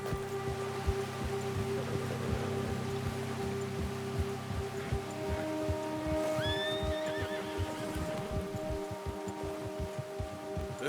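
A horse in the video game Red Dead Redemption 2 gives a couple of whinnies midway through, over steady hoof clip-clops, rain and a sustained music drone, with no talking.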